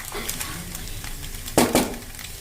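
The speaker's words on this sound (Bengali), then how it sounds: "এবার এটাকে একটু চামচ দিয়ে মিশিয়ে নেব আমি।" A spoon stirring vegetarian pasta with soy sauce in a pan, soft scraping at first, then two louder metallic clinks of spoon against cookware near the end.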